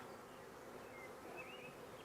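Bees in a starter hive buzz as a faint, steady, dense hum with no voices over it.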